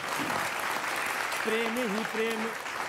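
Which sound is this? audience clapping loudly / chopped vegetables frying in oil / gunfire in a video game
audience clapping loudly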